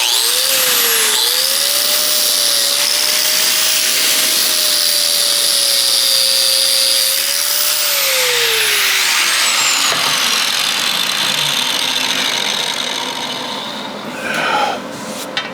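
Angle grinder grinding a metal-to-metal splice, a loud continuous whine that shifts in pitch as it bears on the workpiece, then spins down near the end with a brief clatter.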